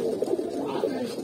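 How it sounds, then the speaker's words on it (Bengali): Pigeons cooing in a loft kept by a pigeon fancier in Munshiganj, soft repeated throaty coos close by, overlapping in a loose rhythm against a quiet background. "এখানে আরো কবুতর আছে"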